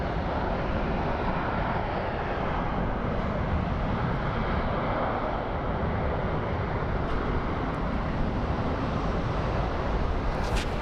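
Steady broadband roar of an airplane landing at Phoenix Sky Harbor International Airport, heard from a distance outdoors as a continuous even rumble with no talk.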